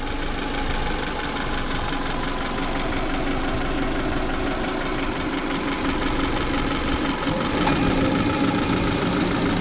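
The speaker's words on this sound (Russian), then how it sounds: "Сейчас мы послушаем очень внимательно мотор." A car engine idles at close range with a steady rumble and an irregular knocking tapping through it, continuous for about ten seconds with a brief click near the end.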